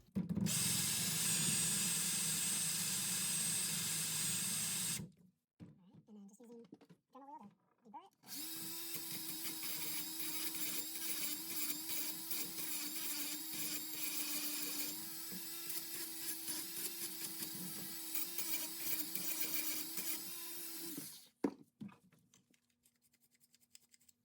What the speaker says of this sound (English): I used the Dremel and I grinded down the little burr impression that it made